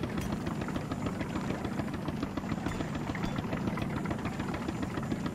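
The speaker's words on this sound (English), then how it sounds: "I've got to stop the engine" A vehicle engine in the video game Black To Fall runs with a steady, loud, low rumble that holds evenly throughout, with no talk over it.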